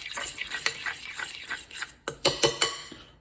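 A fork mashes potatoes in a pot on the stovetop, making soft scraping strokes followed by several sharper metallic clinks against the pot, close and fairly quiet.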